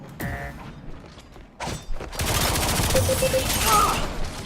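Rapid gunfire and mechanical clanks from the video game LawBreakers, a sustained dense burst of shots following a few sharp isolated reports, loud and close with game tones over it.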